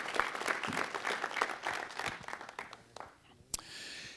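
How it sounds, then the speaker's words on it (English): A small audience at a city council meeting claps in a brief burst of applause that quickly tapers off, with a sharp knock near the end. "Give him a nice round of applause."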